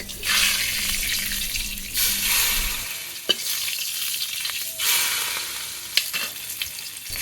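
Magur catfish hitting hot oil seasoned with cumin seeds in a home kitchen pan, a loud steady sizzle with a few spatula clinks and stirring knocks, no voices.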